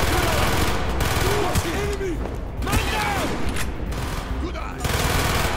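Dense, continuous gunfire from Call of Duty: Black Ops, with sharp overlapping bursts of automatic weapons and mechanical clatter filling the whole stretch at high volume, with voices calling out beneath the shooting.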